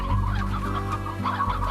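Chickens cluck in the farming video game Slime Rancher, a steady, close run of low, throaty clucks heard on their own without talk.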